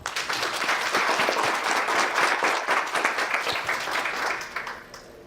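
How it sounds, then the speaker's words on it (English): An audience at a conference panel bursts into loud, sustained applause that gradually tapers off toward the end. "Let's give them a great round of applause"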